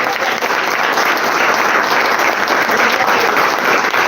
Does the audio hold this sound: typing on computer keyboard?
no